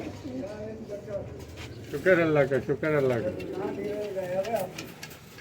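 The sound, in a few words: pigeons cooing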